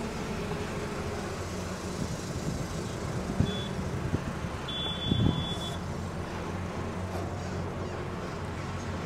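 A newly bought bus is driven, its engine giving a steady low rumble throughout with a couple of brief thumps and a short high electronic beeping midway.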